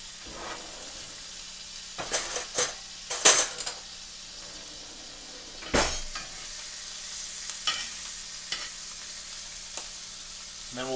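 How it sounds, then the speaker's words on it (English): Sous vide salmon sizzles in a pan with butter while a spoon bastes it, giving a steady close frying hiss broken by several sharp metallic scrapes and clinks against the pan. "And then we'll baste the fish as it's cooking."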